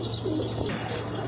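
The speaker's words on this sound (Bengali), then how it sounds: "আরেক জোড়া কবুতর মাশাআল্লাহ কোয়ালিটিফুল ড্যানিশ কবুতর, টকটকে লাল গিয়ারের কবুতর" Danish pigeons with bright red eyes coo softly in a loft, low burbling calls over a steady hum, with a faint chirp near the start.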